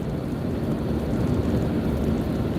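Steady heavy rain pours down outside during a thunderstorm, a dense continuous rumbling wash of low noise with no clear separate thunderclaps, fairly loud and unbroken throughout.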